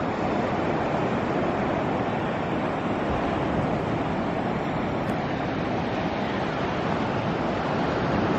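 Ocean surf washes steadily onto an eroding beach at North Topsail Island, a continuous broad roar of waves with wind, with no voices.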